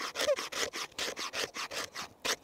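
A knife's 90-degree spine scraping wood to make tinder: about a dozen quick, close, rhythmic scraping strokes, each a short gritty burst separated by brief gaps.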